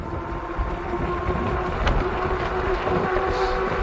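A Lacros electric bike ridden outdoors at full throttle gives a steady, close motor whine and drone over rushing wind and road rumble, continuous with no talk.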